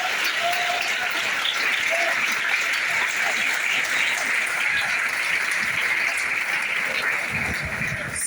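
An audience at a gathering claps in sustained, even applause for about eight seconds, dense and steady throughout, with a faint voice briefly audible toward the end.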